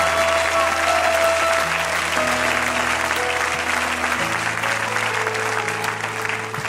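A church congregation breaks into loud, sustained applause that fills the room, steady and dense throughout, with a few cheers mixed in.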